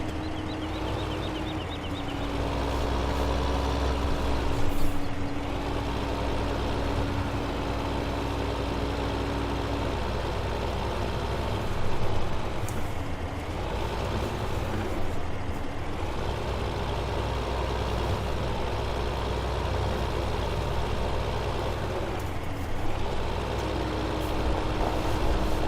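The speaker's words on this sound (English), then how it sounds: "This plough was recommended for a 225 horsepower tractor, and I think this tractor is 220." A 220-horsepower tractor in Farming Simulator 2015 pulls a plough rated for 225 horsepower, its engine holding a steady, loud diesel drone with slight surges and no talking.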